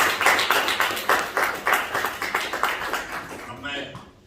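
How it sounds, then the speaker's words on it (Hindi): An audience claps at a book launch in Lucknow, the claps landing in an even, rhythmic beat that rises and falls, with voices mixed in before the clapping trails off. "इस बात के लिए एक तालियां होनी चाहिए।"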